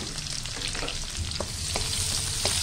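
Onions go into hot oil already browning garlic in a pan for Filipino chicken sarsiado, giving a steady, dense sizzle with a few stirring knocks and no voices.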